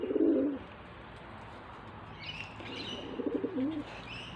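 Pigeons or doves cooing nearby in a series of soft low rolling coos, with faint higher chirps from other birds over steady outdoor background noise.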